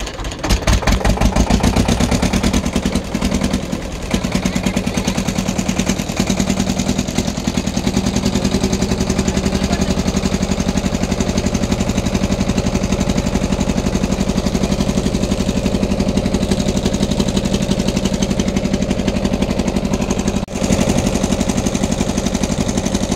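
A loud, steady boat engine drones without pause on a river crossing, a low mechanical rumble with a constant rattling throb and no voices.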